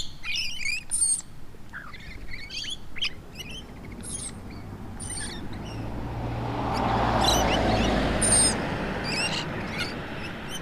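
Wild birds in Australia squawk and call close by in short repeated bursts, with a broad rushing outdoor background that swells midway.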